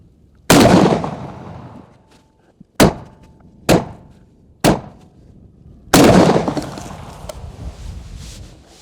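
Beretta 1301 Tactical shotgun firing rifled slugs from a bench at 20 yards: five loud, sharp blasts at uneven intervals, each followed by a short decaying echo.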